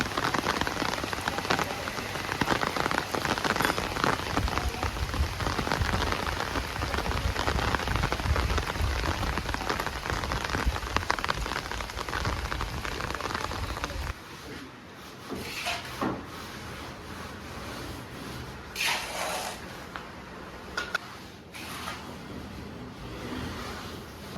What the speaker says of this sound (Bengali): বৃষ্টি হইতেছে, বৃষ্টির নামলে ভেজাল আমাদের কাজ